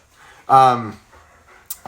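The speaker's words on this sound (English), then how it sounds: "What's this dog doing?" A pet dog pants and whimpers in a short, loud burst close by, followed by quieter breathing and faint background sounds indoors.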